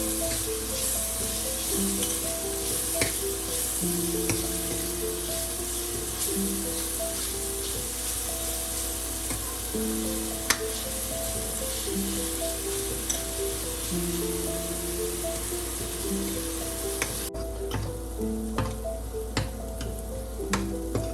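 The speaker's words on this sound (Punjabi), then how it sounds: "ਕੁ ਮਿੰਟ ਹੋ ਗਏ ਜੀ ਪਿਆਜ਼ ਭੁੱਜਦੇ ਨੂੰ ਇਹ ਥੋੜਾ ਜਿਹਾ ਅਸੀਂ ਹੋਰ ਭੁੰਨਾਂਗੇ" Onions fry in a pan as the base for dahi aloo, a potato curry in yogurt, giving a steady, dense sizzle that runs unbroken for about twenty seconds with scattered small pops and ticks near the mic.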